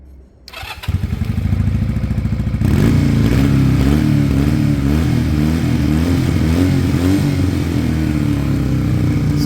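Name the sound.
Sinnis Cruisestar Chinese motorcycle engine running after startup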